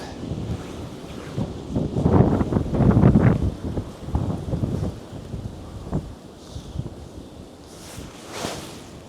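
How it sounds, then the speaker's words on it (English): Strong wind gusts buffet the microphone in rumbling, uneven blasts that rise and fall, with a softer rushing in the lulls. "It's awful windy out here."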